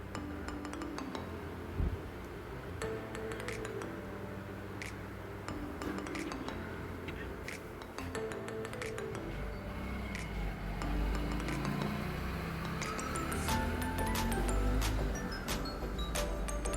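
Egg and sugar batter for orotty is mixed by hand in a bowl, with a steady wet churning and frequent light clinks of glass and metal, continuous and close, growing slightly busier toward the end.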